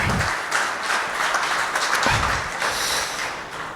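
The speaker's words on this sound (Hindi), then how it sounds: "एक बार जोरदार तालियां भाई रजत जी के लिए" Audience at a Hindi poetry gathering claps loudly for a poet, a dense burst of applause that swells and dips with a few stray louder claps, no speech over it.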